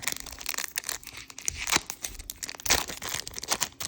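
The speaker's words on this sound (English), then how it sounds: "with the pack opening and the shuffling of the card sound" Close crinkling and tearing of a foil Sorcery trading card pack being opened, with crisp rustles and a few sharper rips, no talking.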